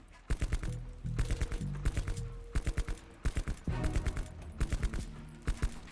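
Rapid gunfire at targets in Call of Duty, arriving as repeated bursts of sharp shots in quick clusters with short pauses between them, moderately loud over the game's background noise.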